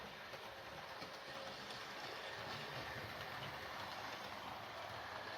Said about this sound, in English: this particular model from Hornby, is that it's got a nice quiet motor. It doesn't stall or stutter on points.